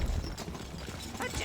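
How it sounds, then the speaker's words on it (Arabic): Horse hooves clop in the medieval strategy game Stronghold Crusader, a faint, quick patter of hoofbeats buried in dense battle noise and game ambience. "الحصان سريع."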